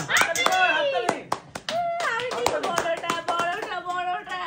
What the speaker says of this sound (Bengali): হাততালি দাও না।